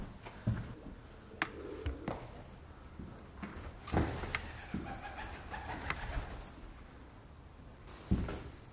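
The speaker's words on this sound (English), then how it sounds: "Like that roof above us is full of pigeons." Soft pigeon cooing and the scuffle of birds on the roof overhead, muffled through the roof from the top floor of Woolton Hall, with occasional sharp knocks and thumps scattered across the quiet.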